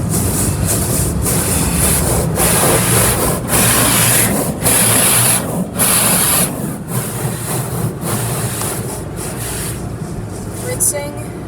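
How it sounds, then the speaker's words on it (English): Side brushes in a Sonny's car wash tunnel scrub a car with a steady, loud swishing rub and rhythmic slapping pulses, while people talk quietly nearby. "Side brushes."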